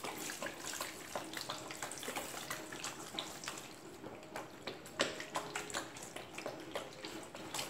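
Fuel alcohol is poured slowly into a liquid soap mixture while it is stirred. There is a faint, steady liquid trickle with soft splashes and light stirring noises and no speech.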